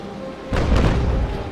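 Carronade cannon fire from a sailing ship in the naval combat game Naval Action: a sudden heavy boom lands midway, followed by a rumbling, sustained roar that stays loud to the end.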